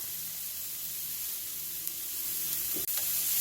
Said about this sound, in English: Then add your carrots to the pan.